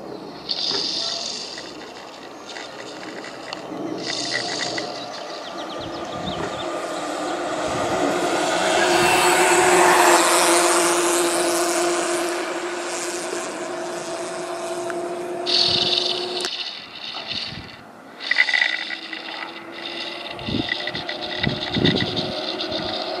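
Two electric bikes, a Stealth Bomber and a 4500-watt HPC XC-2, climb a hill outdoors, a continuous motor whine rising and falling with wind and road noise as they pass, swelling louder near the middle.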